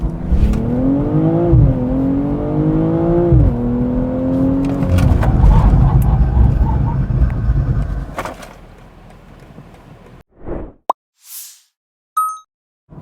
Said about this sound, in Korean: 그럼 실제 제동 성능이 어떤지 한번 확인해 보도록 할까요?